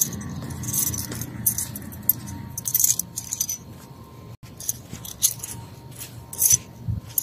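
House keys jangle and clink in bright, irregular bursts at close range, repeating over several seconds with rubbing and handling noise in between.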